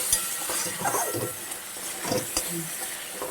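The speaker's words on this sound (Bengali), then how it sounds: "মশলাটাকে ভালো করে ভেজে নেব" Spice paste for sidol bora fries in a pan with a little water, green chilli torn in, a steady broadband sizzle running throughout with a few sharp utensil clinks and scraping stirs over it.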